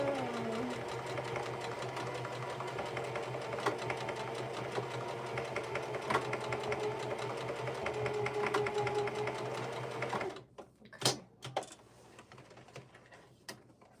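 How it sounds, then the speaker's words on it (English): A domestic sewing machine runs steadily for about ten seconds, stitching back and forth to reinforce a garment pocket, then stops, leaving a few sharp clicks and knocks in near silence. "I'd like to do a couple stitches back and forth there just to reinforce"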